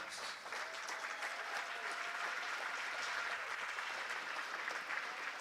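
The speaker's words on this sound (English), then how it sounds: "Let's give Carmen and her family a huge round of applause to show our love and support" Steady crowd applause fills a hockey arena during a pregame tribute to Carmen and her family, even and continuous throughout at moderate distance.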